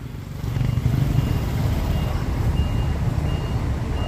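A tow truck's reversing alarm beeps repeatedly at a steady pace during recovery of an overturned Giga box truck, heard over a continuous engine rumble with faint voices in the background.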